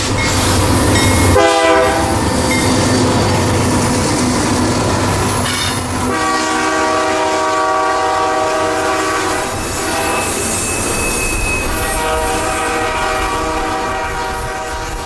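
A CSX freight train, K421, hauling ethanol through Plant City, Florida, roars past loud and close with a sustained blaring horn, rumbling wagons, clacking wheels and some wheel squeal.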